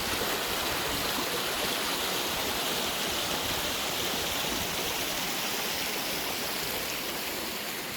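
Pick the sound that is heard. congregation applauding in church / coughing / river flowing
river flowing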